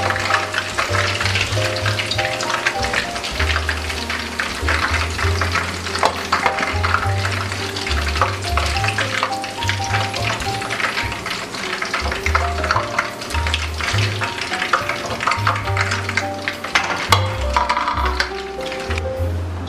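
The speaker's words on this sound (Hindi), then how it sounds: "चिकन अच्छे से फ्राई हो गई है, गोल्डन कलर आ गया है इसके ऊपर, ये बहुत क्रिस्पी बनती है" Chicken pieces for Chicken Manchurian fry in hot oil until golden and crispy, giving a dense, continuous sizzle and crackle with occasional stirring clinks and scrapes, close and lively throughout.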